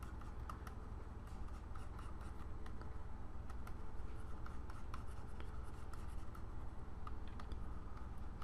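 A pencil sketches an ape character on paper, making a soft, continuous scratchy rubbing with faint quick strokes. It is close and quiet, with no talking.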